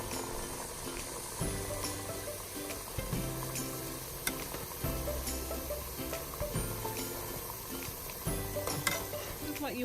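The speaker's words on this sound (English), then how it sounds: "we're going to keep stirring our onions also until they get golden brown" Onions frying in a pan while being stirred for a Syrian fattet makdous, with a steady close sizzle broken by repeated scraping and clattering strokes of the stirring utensil throughout.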